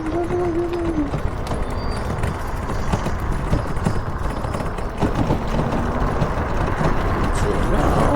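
Horse hooves clip-clop steadily beneath a rider on a mountain trail in Australia, mixed with faint road traffic in the background.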